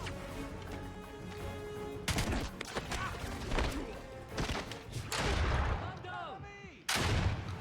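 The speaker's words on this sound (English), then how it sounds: "That's a grenade." A grenade goes off in the video game 007: Blood Stone amid a firefight, with repeated sharp gunshots and heavy booming blasts layered over game music and noise, fairly faint overall.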